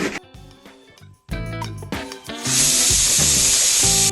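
Sliced onion hitting hot oil in a pan for a squid roast masala, a loud sizzle that swells into a steady, bright hiss with clattering of utensils, close and without speech.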